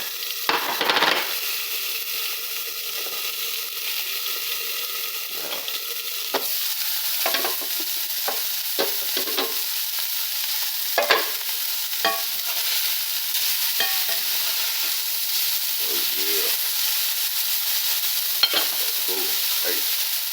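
A seasoned burger patty sizzles over a flame broiler, a steady crackling hiss with scattered pops and scrapes, close and continuous with no talk.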